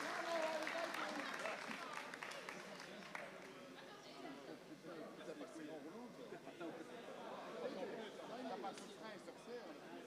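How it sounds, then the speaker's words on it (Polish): A crowd at an award ceremony for the best teams gives sustained applause, mixed with loud chatter and voices throughout, the clapping blending into a busy roomful of people. "One more time applause for the best teams at this PIKC edition."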